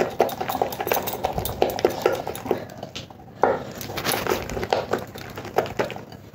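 A spoon beats a cauliflower chop batter made with water in a bowl, a quick rhythmic series of wet slaps and scrapes that pauses briefly around halfway, then resumes at the same brisk pace.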